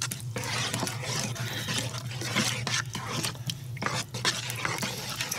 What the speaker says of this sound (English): now let me stir this all up and get this mixed up.